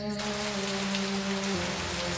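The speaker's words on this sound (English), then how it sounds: "Oh, just a drizzle." Light drizzle falls in a PC adventure game set on a stormy island, a steady soft patter of rain over a faint low rumble, with no voices.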